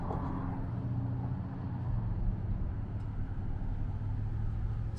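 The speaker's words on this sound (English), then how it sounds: "there's a very high volume of traffic. Noise pollution level is skyrocketing at the moment." Heavy road traffic at a busy, congested junction on College Drive in Saskatoon, a continuous low engine rumble with passing vehicles blending into a steady, fairly loud roar, no talking.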